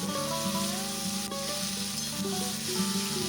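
Ginger paste stirred and fried with vegetables including green bananas in a pan for Bengali shukto, a steady close sizzle with soft scraping of the spoon throughout and no voices.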